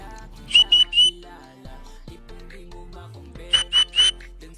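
Two bursts of three short, sharp whistle blasts ring out near a pet pigeon, one group at the start and another near the end, with quiet room sound and faint low noises between them.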